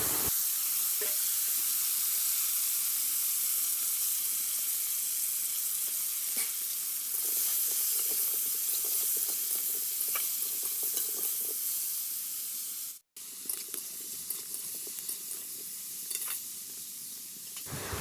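Crushed hog plums sizzle loudly in hot oil with five-spice and dried chilli, a steady bright hiss with scattered stirring scrapes, briefly cut off by a short gap before the frying resumes.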